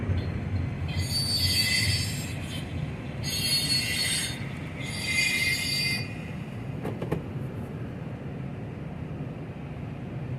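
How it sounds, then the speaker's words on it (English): Container train rolling past near downtown Indianapolis, wheels squealing in three loud high-pitched bursts over a steady low rumble of rail cars, then quieter clacking. "Container train."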